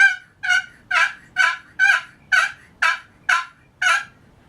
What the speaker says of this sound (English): They start gobbling about 6:30.